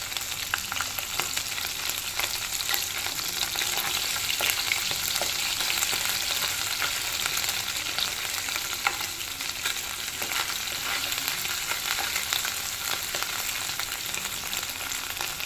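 Dried fish frying in oil in a pan, a steady crackling sizzle with busy popping that carries on evenly throughout.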